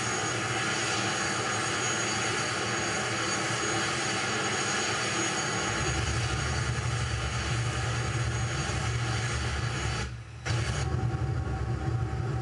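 Steady jet engine roar of an aircraft landing in a flight simulator game played with a Saitek X52 controller, a continuous loud drone with a brief dip near the end before the engine noise resumes.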